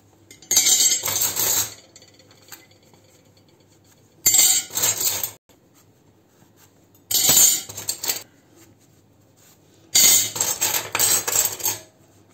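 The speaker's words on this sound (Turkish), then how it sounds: "Kurulayacağım." Forks and spoons clink and rattle together in four short bursts while being dried by hand, each jangle lasting about a second with quiet pauses between.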